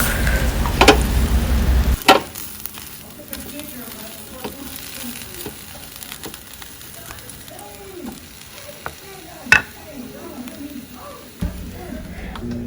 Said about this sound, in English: Can you hear them? Can you hear the sizzle?